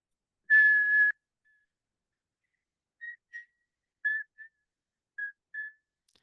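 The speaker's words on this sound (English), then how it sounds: "that whistling. It's Chopin's funeral march." A single whistler plays Chopin's funeral march slowly and mournfully: one long held note, then short paired notes spaced by pauses, clear against silence.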